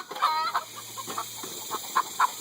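Backyard chickens in a movable chicken tractor cluck in short repeated bursts, fairly close, with several birds overlapping and a few louder calls near the end.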